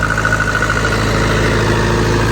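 A tractor engine idles steadily, a continuous low rumble with a faint mechanical whine, close by and unchanging throughout.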